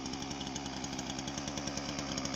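A chainsaw cutting wood in a woodland runs steadily and loudly throughout, its buzzing engine drone continuous with a rough, pulsing texture as it cuts.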